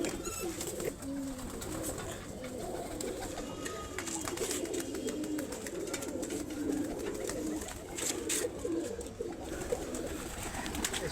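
Pigeons kept by a fancier coo continuously at close range, soft repeated calls layered over light ambient rustling.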